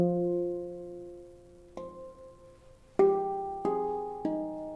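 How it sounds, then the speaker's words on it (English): An Aura handpan tuned to an F Low Pygmy scale rings out, starting with a low ding root note. A few more struck tones follow, each decaying slowly, soft and close with no talk. "this is a handpan by Aura, and the scale is F Low Pygmy. It sounds like this."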